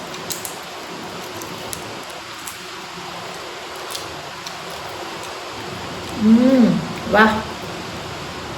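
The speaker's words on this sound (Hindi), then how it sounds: "बारिश और ज़्यादा तेज़ हो रही है।" Steady rain falling outdoors, an even hiss of drops with scattered louder taps, moderately loud throughout, with a brief spoken exclamation rising over it near the end.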